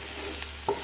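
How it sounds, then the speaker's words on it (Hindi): Onion tadka with coriander, cumin and Kashmiri chili fries in a pan, a brief close hiss of sizzling oil with a light stir near the end and no talk. "प्याज को कलर चेंज होने तक हमें फ्राई करना है।"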